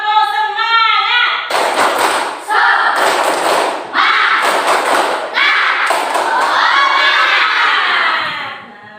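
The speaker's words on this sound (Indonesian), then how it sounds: "kita tepuk semangat dulu biar lebih semangat" A class of schoolchildren performs a rhythmic spirit clap and chant together, bursts of loud clapping and shouted voices in several sections, with a teacher's voice leading at the start.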